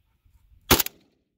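A single sharp gunshot as a homemade tracer round is fired down a road outdoors, one loud crack with a brief echoing tail after a few faint ticks.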